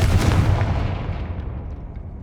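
A Confringo fire spell blast from Hogwarts Legacy, a loud booming burst at the start that decays into a rumbling, crackling tail over about two seconds, with no talking.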